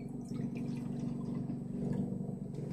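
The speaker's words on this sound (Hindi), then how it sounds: "अब इतना ही पानी इसमें डालते हैं।" Water is poured by hand into a container as a short, continuous splashing pour at close range, with no voices.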